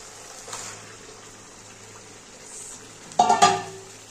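Chicken pieces go into a pan of cooked-down spice masala, starting a low, steady frying hiss. A louder burst of sizzling and stirring rises near the end, with faint utensil scrapes.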